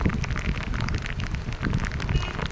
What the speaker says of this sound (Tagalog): Umaulan tayo no mga boss.